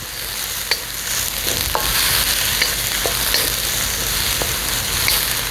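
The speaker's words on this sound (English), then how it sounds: "Mesh all that garlic and ginger in the vegetables, saute it." Baby bok choy sautés with garlic and ginger in a hot pan, giving a constant loud sizzle. Sharp scrapes and taps from a utensil stirring the vegetables punctuate it.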